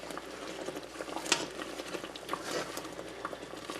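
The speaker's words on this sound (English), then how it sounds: "I'm getting some caramelization on the bottom. It's bubbling up through," Peanut butter fudge boiling in a pot with caramelizing spots on the bottom, a soft continuous bubbling and popping patter, close and fairly quiet, with a few sharper pops standing out.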